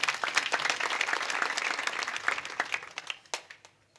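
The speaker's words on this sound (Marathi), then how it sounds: "मृदंगाचार्याबद्दल सगळ्यांनी टाळ्या वाजवा" A crowd at a Marathi kirtan claps for the mridang players. The dense applause is close and steady, then thins out and fades within a few seconds.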